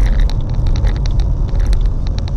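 A car drives through city streets, its low engine rumble and road noise steady and close, with sharp higher clicks and ticks scattered over it and no voices.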